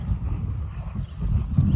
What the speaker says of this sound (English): Wow, it's windy too.